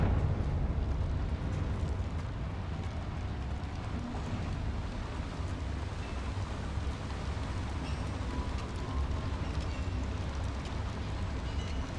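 Confringo blasting spell explosion in Hogwarts Legacy: a steady, dense, rumbling roar of fire and debris that holds at a constant loudness throughout, with no voice over it.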